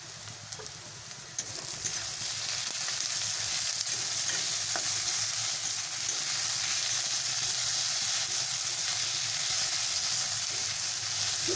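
Onion and garlic fry in a pan during preparation of a Bengali kochur loti dish with egg, giving a steady close sizzle with stirring that carries on throughout, with no talking.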